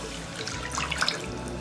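Water splashes steadily from a tap into a pan for Odia sago (sabudana) poda pitha batter, a close, continuous pour lasting under two seconds with a brief brighter gurgle near the end.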